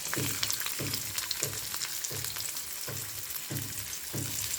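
Steady sizzling of onions frying in hot oil, with soft rhythmic stirring scrapes repeating about every second.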